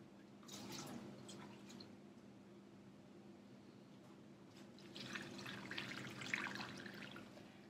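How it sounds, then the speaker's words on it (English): Water poured into a Peter Pugger vacuum deairing pug mill loaded with dry clay, in two bursts of splashing and trickling over a steady low motor hum. "I'm going to add some water."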